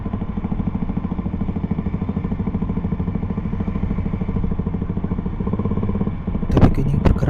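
Motorcycles and other vehicles idle and creep forward in a queue on the reopened Lembah Anai road, a steady close engine drone with a brief burst of clatter near the end.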